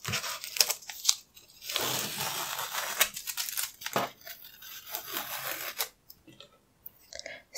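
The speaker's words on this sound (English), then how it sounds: "So it untapes pretty easily" Masking tape being peeled off sheets of cheap, textured watercolor paper, a series of close tearing and crinkling rips with short pauses between pulls and no talking.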